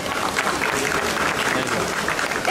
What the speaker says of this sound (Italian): Facciamo un applauso alla nostra Miss Vesuvio Curvi 2023.